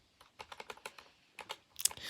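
Keys on a GK61 60% gaming keyboard clack in quick, uneven bursts of typing, crisp and close, with no talking.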